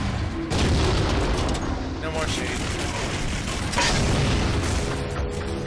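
Rapid booming explosions from a fuel rod weapon in the video game Halo 4, dense rumbling blasts layered over constant gunfire and battle noise, with players talking over the chaos.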